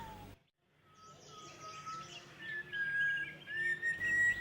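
Several wild birds, such as Nilgiri white-eye and Nilgiri pipit, chirp and whistle at a distance in the Eravikulam hills, thin high calls overlapping softly against a quiet outdoor background.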